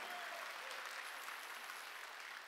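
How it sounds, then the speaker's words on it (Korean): A Korean church congregation claps together during a Sunday worship service, a dense, steady wash of applause holding at even loudness throughout, with no voices standing out. "박수로 하나님께 영광을 돌리고"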